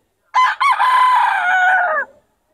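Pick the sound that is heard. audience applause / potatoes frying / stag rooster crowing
stag rooster crowing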